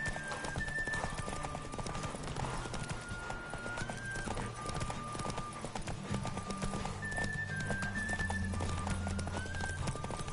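A horse gallops in the video game The Witcher 3: Wild Hunt, with a continuous rapid drumming of hooves and occasional whinnies over game music, close and steady throughout.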